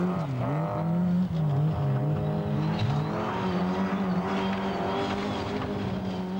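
Colin McRae's Vauxhall Nova rally car howls through the 1988 RSAC Scottish Rally at Knockhill, its engine note rising and falling as it revs hard and shifts gears. The car is loud and close, and no one speaks.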